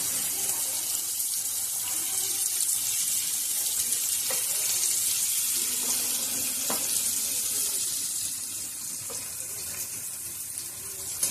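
Onion sautéing in hot oil after garlic makes a continuous broad sizzling hiss, steady and close, with a few faint clinks of a utensil against the pan, easing off slightly toward the end.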